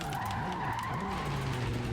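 Car skidding and engine droning in Cyberpunk, a steady continuous tyre-and-motor roar with a wavering pitch, close and loud throughout.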